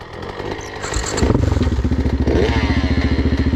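A KTM SX 85 dirt bike engine idles, then revs up into a loud, steady, rapidly pulsing roar close by, with some mechanical clatter.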